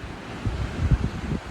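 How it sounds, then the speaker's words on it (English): Small white sea waves wash gently onto a sunny shore lined with palm trees, heard as soft low surges under strong wind rumble on the microphone. "white little waves, smaller waves than yesterday"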